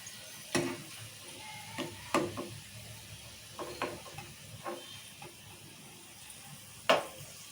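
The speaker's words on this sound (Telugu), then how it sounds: "సో బ్రౌన్ ఆనియన్స్ కోసమని వేయించుతుంది" Sliced onions frying in oil for mutton biryani, a soft steady sizzle broken by scattered clinks and scrapes of a spoon stirring the pan.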